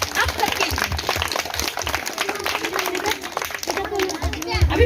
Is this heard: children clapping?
yes